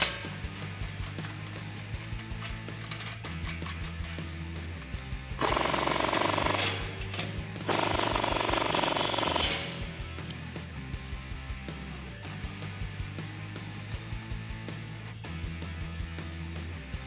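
Pypes exhaust band clamps on a 2011-2014 F150 5.0L being tightened with a 15mm socket: a loud, close burst of power-tool rattling in two bursts amid steady workshop hum, no talking.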